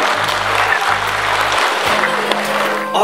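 Audience applause at a film premiere in Hong Kong, a loud continuous wash of clapping from a packed hall, steady throughout with a low droning hum underneath.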